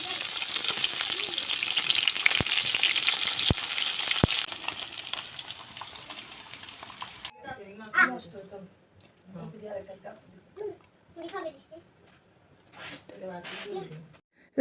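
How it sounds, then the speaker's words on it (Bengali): Fish coated in spices fries in a pan with a loud, steady sizzle for several seconds. The sizzle then quiets and fades under a person talking. "মাছটা মশলা দিয়ে মেখে এখন আম্মু কিন্তু ভাজতে বসে যায়"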